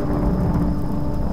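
A thunderstorm in the video game Tomb Raider (2013) gives a loud, dense low rumble with steady rain hiss, in a brief continuous stretch.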